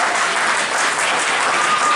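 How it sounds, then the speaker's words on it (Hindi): Dense, loud applause from an audience in a hall at a community felicitation event, continuous and even throughout, with no voices over it. "मैं समूचे सदन से आग्रह करता हूँ कि जोरदार तालियों के साथ एक बार उनका"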